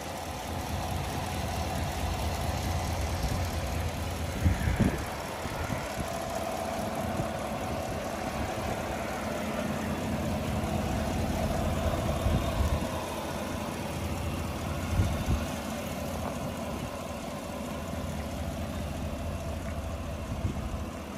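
A 2016 Chevy Tahoe 4x4 with the 5.3 engine idles steadily under the open hood, a continuous low mechanical rumble heard up close, with a few brief louder knocks or bumps along the way and no talking.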